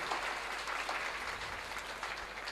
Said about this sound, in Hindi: प्लीज तालियां भी साथ लगाएं ताकि बच्चे की हौसला अफजाई हो